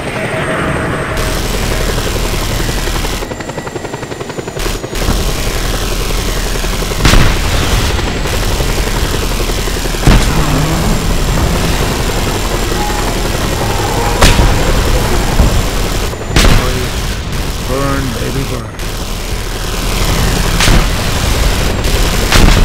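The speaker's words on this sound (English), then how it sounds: "Launching missile." In the video game Just Cause 2, missiles launch and explosions boom again and again over a constant rotor drone, with sharp blasts and crackling gunfire scattered through the loud, dense battle noise.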